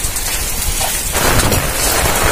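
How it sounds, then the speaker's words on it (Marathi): The first monsoon rain in Rajapur, Konkan, pours down as a loud, dense hiss that grows heavier partway through, with no voices. "पाऊस आला रे"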